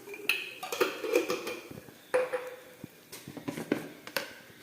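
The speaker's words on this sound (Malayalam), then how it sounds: "ഇതെല്ലാം കൂടി ഇളക്കാം" Spices for shawarma, including black pepper, fennel seed and a pinch of salt, being stirred together in a bowl: a series of close clinks and scrapes of a spoon against the dish, with short pauses between strokes.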